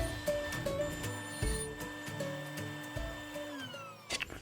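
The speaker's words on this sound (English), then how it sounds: "we're going to set our bevel on the table saw to 12 degrees and cut the notch for the backer" A table saw with its blade tilted to a 12-degree bevel cuts a narrow notch in wood, a sustained whining hum with changing tones as the cut proceeds, then a brief clatter at the end, with no talk.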